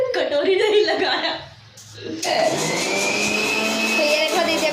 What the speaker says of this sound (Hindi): तो ये देखो दीदी अभी भी चटनी पीस रही है